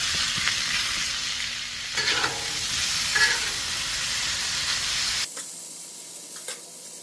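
Leftover bottom round steak, tenderized with pineapple, sizzles loudly in olive oil on a Blackstone griddle, a steady close hiss with occasional stirring scrapes, easing slightly toward the end.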